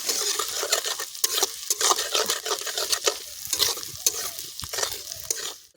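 Shredded cabbage for cabbage manchurian frying in a pan and being stirred, a steady close sizzle broken by repeated scraping strokes of a spatula against the pan, with no voices.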